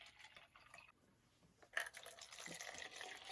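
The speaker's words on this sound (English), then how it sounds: "So we're filling these both up with water" Water pours into cups, a faint trickle giving way to a brighter, steadier splashing fill after a brief pause.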